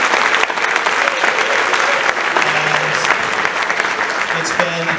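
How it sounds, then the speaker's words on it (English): An audience at a high school band concert claps steadily, dense applause holding at an even level throughout, with a few voices and cheers mixed in. "So please give them a round of applause."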